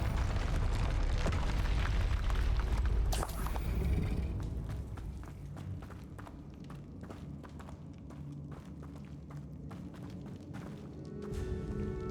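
Confringo fire spells explode in combat in the Hogwarts Legacy video game: a loud rumbling blast, then a run of sharp crackling impacts and clattering hits over a lower, steady bed of sound.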